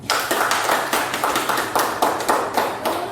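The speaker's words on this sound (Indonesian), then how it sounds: "terima kasih kelompok 1, berikan tepuk tangan" A classroom group claps together in a quick, even rhythm, each burst of hands close and loud, repeating steadily throughout.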